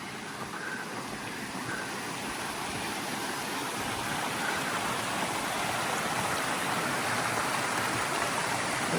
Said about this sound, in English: So I think this is Raglan Falls. I mean, it's more of a cascade.